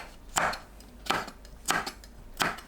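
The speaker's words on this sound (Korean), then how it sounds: "파, 청양고추, 홍고추를 어슷 썰어주세요." A kitchen knife slices green onion and green and red chili peppers diagonally on a cutting board, with four evenly spaced, crisp chops close up.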